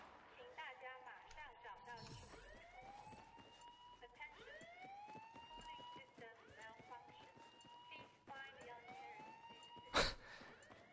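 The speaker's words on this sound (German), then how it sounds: "Es geht nur noch die Sirene an hier." Repeated rising and falling siren wails sound in Battlefield 4 gameplay on Xbox 360 at the Lancang Dam map, cycling continuously over someone talking, with a sharp bang near the end.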